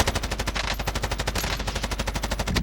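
Rapid automatic gunfire in the video game Call of Duty: Warzone, a steady stream of evenly spaced shots at a fast rhythm, loud and close with no talk over it.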